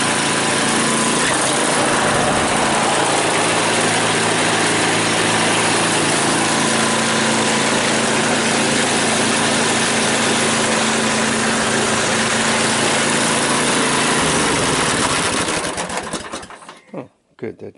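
A small engine on an MTD 8/26 snowblower roars loudly and steadily after starting, running at a constant pitch close by for most of the stretch before abruptly shutting off near the end.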